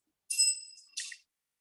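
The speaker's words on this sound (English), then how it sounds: "the timekeeper will ring the bell like this" A timekeeper's bell at an intercollegiate English oratorical contest gives two quick, bright metallic rings, the first sustained a little longer before the second, clear and alone in a quiet room.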